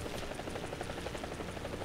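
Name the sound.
helicopter in the video game War Thunder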